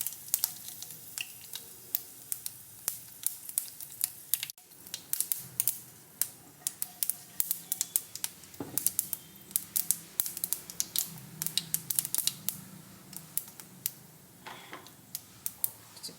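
Dried red chillies fry in oil for a Kerala-style mango ginger pickle, crackling with many sharp irregular pops and ticks over a soft low sizzle, close and fairly faint.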